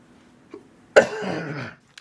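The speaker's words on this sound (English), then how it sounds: "I got this cold cough thing." A single harsh cough from someone with a cold bursts out close by, a short throaty rasp that trails off, preceded by a faint throat sound.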